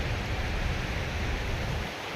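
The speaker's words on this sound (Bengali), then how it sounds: "বৃষ্টি হচ্ছে।" Steady rain falls over a guava orchard of Baruipur khaja guava trees, a dense, even hiss of drops that holds for about two seconds and then eases slightly. No one speaks.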